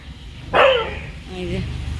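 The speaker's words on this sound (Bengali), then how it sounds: "হোটেলের পায়ে সামনেতেই ঠিক একটা এরকম ডগি বাঁধা আছে" A dog tied up in front of a hotel in Digha gives one loud, close bark, followed by a lower whine-like sound under background noise.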